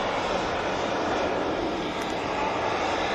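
A Helvetic Embraer jet taxis at Manchester Airport, its engines giving a steady, fairly loud broadband roar that holds level throughout with no talk.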